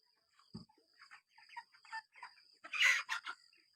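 Chickens on a poultry farm cluck and squawk in short scattered bursts, close but quiet, with one louder squawk near the end over a steady faint insect-like whine.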